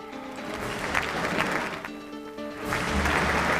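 A standing crowd of about 1,500 people at the Maine Center for the Arts gives warm applause to welcome a U.S. Secretary of Defense, a dense, continuous clapping that dips briefly and then swells louder.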